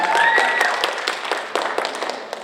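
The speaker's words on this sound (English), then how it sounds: "so a round of applause for them." An audience at a school story slam event applauds, a dense wash of many hands clapping that stays loud and fairly close before slowly thinning out, with a brief whistle near the start.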